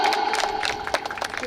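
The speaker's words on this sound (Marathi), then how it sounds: "टाळ्या एकदा जोरदार टाळ्या" Guests clapping and cheering at a birthday party, a dense burst of crowd applause with lively voices mixed in, steady and moderately loud throughout.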